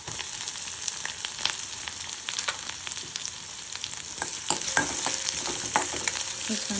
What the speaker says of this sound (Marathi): हे छान तळतळायचं आहे।